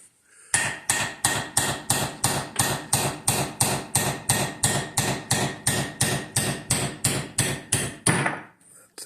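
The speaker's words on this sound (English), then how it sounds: "let me go fix the hammer with a hammer." A hammer strikes an engine part in a fast, steady series of about twenty loud metallic blows, close and alone, ending abruptly.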